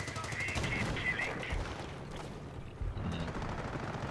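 A Browning automatic machine gun fires in a video game in rapid sustained bursts, a dense rattling of shots with a brief pause before firing resumes, fairly loud against the game's background noise.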